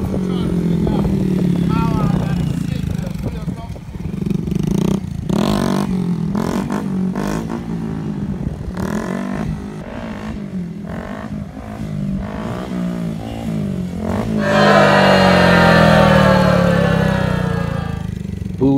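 A 2023 Honda Grom motorcycle revving and shifting up through the gears, the engine loud and near with rising and falling pitch, while people talk and shout over it throughout.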